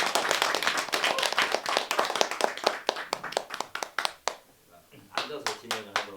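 At a literary talk concert, an audience gives a poet a welcoming burst of clapping, crisp individual claps that thin out and fade after several seconds, followed by a voice speaking.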